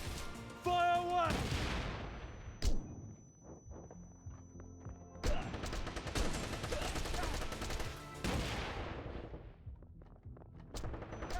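Loud bursts of gunfire from the action game Wanted: Dead on PS5, several clusters of rapid shots with gaps between, mixed with other combat noise.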